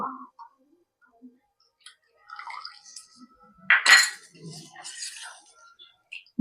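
A spoon mixes soaked saffron into malai in a bowl, giving sparse, faint clinks and one louder scrape in otherwise near-silence.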